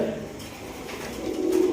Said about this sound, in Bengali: এটা হচ্ছে একটা নর কবুতর